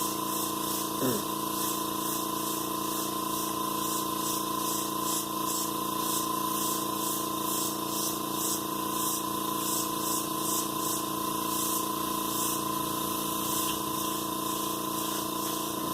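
Airbrush or spray gun laying a first light mist coat of paint onto an F/A-18E scale model, a steady continuous hiss with a compressor-like hum running evenly throughout, close and unbroken.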